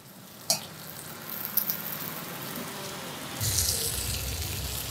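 Sweet garelu fry in hot oil, a steady bubbling sizzle with a few sharp clinks near the start, then swelling louder toward the end, close by with no speech.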